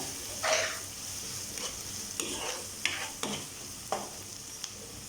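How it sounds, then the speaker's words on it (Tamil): Tomatoes sautéing in a pan for pumpkin kootu, a soft sizzle beneath repeated stirring strokes and several light clinks of a spoon against the pan, close and fairly quiet. "இதை சேர்த்து லைட்டாக வதக்கிக்கோங்க. இந்த தக்காளி நம்மளுக்கு நல்லா மேஷ் ஆகணும்."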